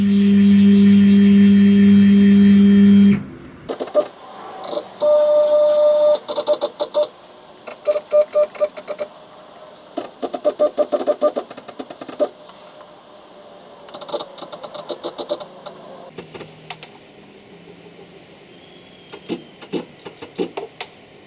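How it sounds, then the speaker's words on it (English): CNC metal milling machine jogged by a handheld pendant while locating a hole's centre: a loud tone opens, then intermittent short whirring motor moves, clicks and beeps with gaps between them, close up and without talk. "I'm using my pendant here to control the CNC mill. Bring it down."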